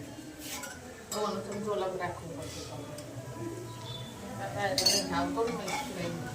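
A large metal ladle clinks and scrapes against a cooking pot while dal is being tempered, bright clatters coming in bursts close to the microphone, with people talking throughout.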